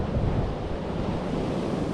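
Surf rolls steadily onto a beach, a dense continuous wash of breaking waves mixed with gusting wind buffeting the microphone, with no talking.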